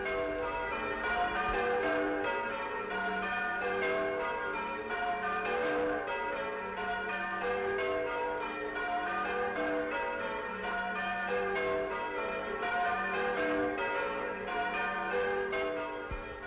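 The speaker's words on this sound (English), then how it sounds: "She wanted to learn how to ring church bells" Church bells peal continuously in overlapping rounds, a dense ringing chime with steady rhythm throughout.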